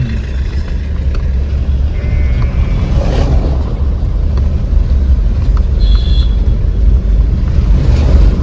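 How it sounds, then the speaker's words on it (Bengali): Cold wind rushing into a vehicle driving a snowy high mountain road near Zoji La on the Srinagar to Kargil route, a loud, steady roaring buffet of air over road noise, continuous throughout with no talking. "বেশ ঠান্ডা হাওয়া ঢুকছে"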